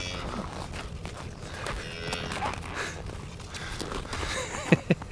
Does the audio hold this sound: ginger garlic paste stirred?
no